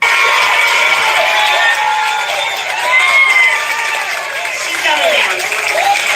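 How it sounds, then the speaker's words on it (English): A large crowd at a political rally cheers and shouts continuously, with many overlapping voices whooping and calling out in a loud, sustained roar. "Now look at the crowd cheering."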